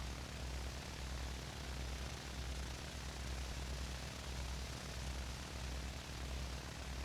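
An airplane approaching Sandy Shores in a GTA roleplay game, heard as a steady, droning engine hum with a faint low pulsing throughout, moderately loud and continuous, with no voices.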